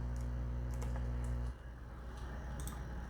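Quick typing on a computer keyboard, light clicks tapping out a short message over a steady low electrical hum that drops away partway through.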